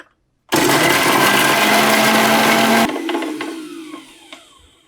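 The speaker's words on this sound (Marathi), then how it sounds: "कच्चा कांदा मिक्सरच्या भांड्यात घेऊयात झाकण लावायचं आणि याची प्युरी तयार करूया" A kitchen mixer grinder purees raw onion with a loud, steady whirring roar for about two seconds, then cuts off abruptly and winds down with fading rattles.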